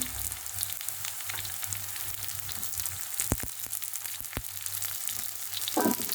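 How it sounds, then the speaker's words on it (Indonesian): Red chilies stir-fried in a pan, a steady soft sizzle with scattered scraping stirs and a couple of sharp clicks of the spatula, fairly quiet and alone without talk. "Kemudian kita masukkan cabai merahnya juga ditumis ya teman-teman."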